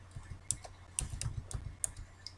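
Keys clatter on a computer keyboard in a quick, uneven run of soft close clicks, with a few sharper taps, heard alone.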